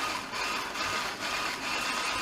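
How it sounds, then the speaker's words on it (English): Butter is whisked with icing sugar for a simple Christmas cake. The whisk makes a continuous, even mechanical whirring with a slight pulsing rhythm, close and moderately loud, and no one talks. "whisk the butter so it gets some fluffiness into it"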